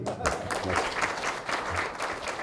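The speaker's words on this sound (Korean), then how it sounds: "박수 한번 드릴까요, 저희?" Audience applause at a Gyeonggi Province livestock farm environment improvement training session, a steady wash of clapping from a crowd filling the room for a couple of seconds.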